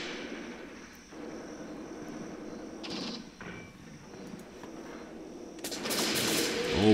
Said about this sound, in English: Good shooting here by Haynes.